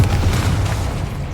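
A Confringo spell blast in the video game Hogwarts Legacy, heard as a loud, deep boom that rumbles for about a second and a half with no voices over it.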